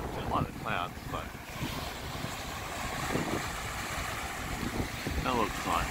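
Steady gusting wind by the shore of Lake Victoria on a cool morning, buffeting the microphone in a constant broadband rush, with faint voices surfacing briefly now and then.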